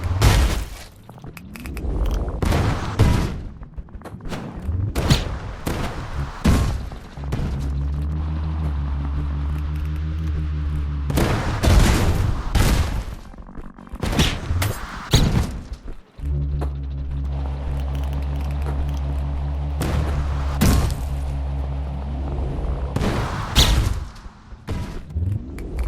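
Cannons fire in the video game Isopod as loud, sharp booming blasts that repeat irregularly, broken by steady droning tones from the game, with no talking.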